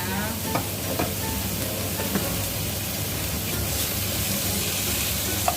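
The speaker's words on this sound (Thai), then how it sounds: "ผัดกระทะนะคะ" Pork sizzles and hisses steadily in a hot wok, with occasional scraping knocks of a spatula as it is stirred.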